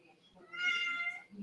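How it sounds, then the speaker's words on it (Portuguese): A small female cat meows desperately at a door, one long, insistent, fairly faint meow in an otherwise quiet room. "a gatinha, não sei se vocês estão ouvindo aí, mas ela tá desesperada"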